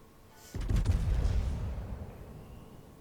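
Naval gunfire from a ship in World of Warships: a single heavy boom strikes suddenly, followed by a deep rumbling roll that slowly fades over a couple of seconds.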